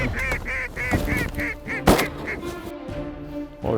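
Geese honk repeatedly at a hunting decoy spread on a southwest wind, a rapid run of close, loud calls followed by scattered honks and a sharp thump.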